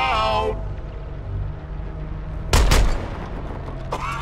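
Gunfire from the Suicide Squad: Kill the Justice League video game, a loud burst of shots in the middle of a noisy game scene, with voice-like tones at the start and end.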